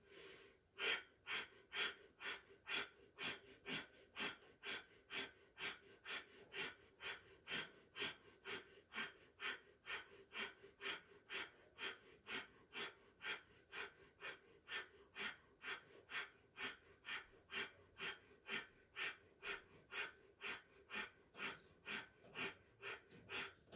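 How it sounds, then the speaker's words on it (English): Breath of fire yoga breathing, a fast even series of sharp forced nasal exhales repeating steadily for over twenty seconds, close and fairly quiet, with no talking. "do breath of fire for another minute"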